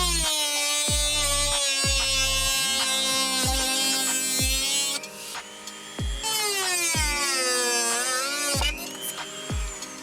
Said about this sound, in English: So I got the little Dremel out.